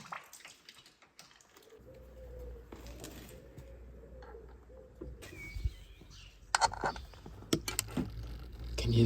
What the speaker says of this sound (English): Can you hear the birds cheepering?